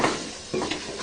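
Chickpeas stirred through spiced oil in a pot, a close scraping swirl over a soft sizzle, with a spoon knocking lightly against the pot partway through.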